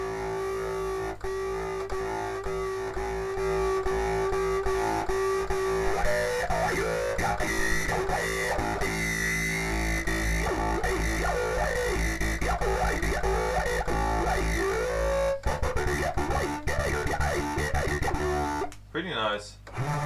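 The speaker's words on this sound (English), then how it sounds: "This is pretty nice to actually make like a really cool bassy sound." Distorted, bassy synth patch from Halion Sonic in Cubase 10 Pro, a loud gritty sustained tone with shifting, warbling overtones that cut off abruptly near the end.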